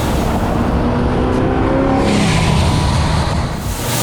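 An 850 hp ProCharged 1969 Camaro restomod revs hard up close, its engine roar loud and sustained with rising and falling pitch across the whole stretch, with no talk over it.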